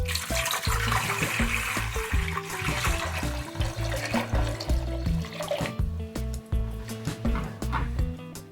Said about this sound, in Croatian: Dobro operemo u više voda.